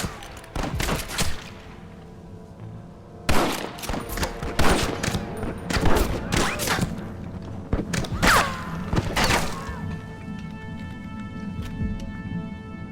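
Volleys of gunfire from the Western game Red Dead Redemption on PS4 come in several loud bursts of rapid shots and heavy thuds, separated by short quieter gaps with ringing echoes and a steady background hum.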